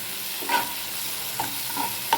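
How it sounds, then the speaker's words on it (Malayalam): Ingredients for a chutney being sautéed in a pan, a soft continuous frying sizzle with a few light clinks and scrapes of stirring scattered through, fairly quiet and with no voices. "ഇത് നന്നായിട്ട് വഴന്ന് കിട്ടിയിട്ടുണ്ട്"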